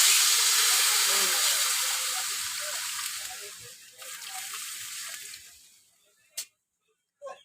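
Water poured into a hot pan of fried prawns and salt for a jute leaf curry sets off a loud, bright steamy sizzle that gradually dies down, followed by a couple of sharp utensil clinks.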